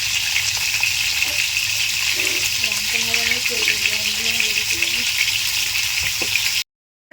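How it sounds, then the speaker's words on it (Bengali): A continuous close sizzle of potatoes frying in oil in a hot wok, with a faint tonal hum briefly in the middle, before the sound cuts off abruptly just before the end. "আলুটা আমরা লাল লাল করে ভেজে নেবো"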